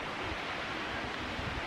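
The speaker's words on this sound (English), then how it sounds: "So behind me is the Kankakee River running." The Kankakee River runs past as a steady, even rush of flowing water, constant and fairly close, with no voices over it.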